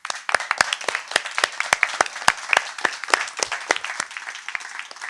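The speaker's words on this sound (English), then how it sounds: "this round of applause from all of us up here is for you" Audience applause at a live storytelling event in a Kingston, NY venue, a smaller group clapping in distinct, uneven sharp claps that stay fairly steady over the whole stretch with no talk.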